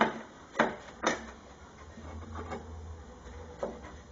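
A wooden pedestal dining table part slid into its slot, heard as a few soft knocks and a brief rubbing scrape of wood on wood, close and faint against a quiet room.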